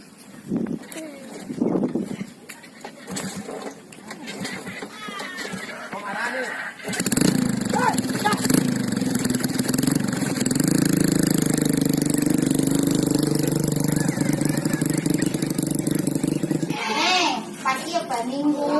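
A motorcycle engine starts, then runs loudly and steadily close by for about ten seconds, with people talking over it before and during.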